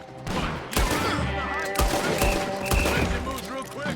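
Gunfire in the video game Red Dead Redemption 2, a fusillade of sharp shots over steady music and game sound, with characters talking over the clatter throughout.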